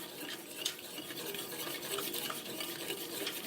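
Milk gravy is stirred constantly in a pan to brown it, with soft, continuous scraping and swishing from the utensil at a quiet level, close by.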